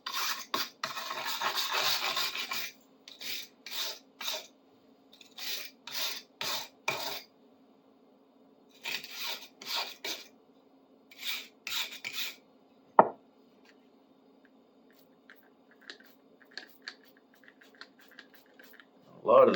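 Rust and dirt being scraped off an old bastard file during restoration, in quick bursts of raspy strokes with pauses between, close up, followed by a sharp tap and quieter scratching.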